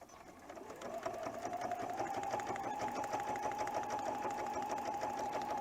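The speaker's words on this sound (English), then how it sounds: "I'm simply sewing as close to the edge as possible." Sewing machine stitching a penguin quilt applique close to the fabric edge, motor spinning up within the first second into a steady, close, even hum of rapid stitching that runs continuously to the end.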